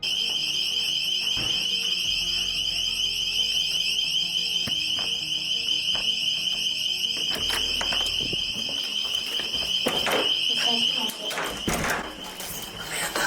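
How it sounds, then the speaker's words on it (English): A loud, continuous high-pitched alarm rings throughout, with thumps and muffled voices underneath it. "I didn't know it was an alarm."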